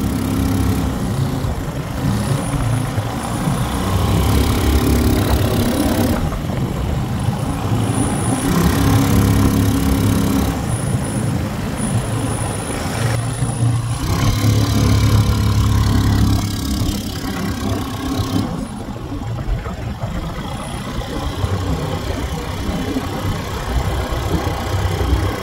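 A vehicle engine running loud and close on a desert safari, giving a constant rough drone with slight shifts in pitch and no clear break for its whole length.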